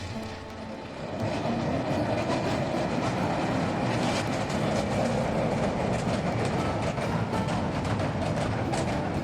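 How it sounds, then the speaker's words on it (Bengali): A train rolls over the Singimari bridge in a sustained, loud rumble with rhythmic clickety-clack of wheels on rails, starting after a short quieter opening and continuing steadily. "দেখতে পাচ্ছেন যে ট্রেন আসতেছে"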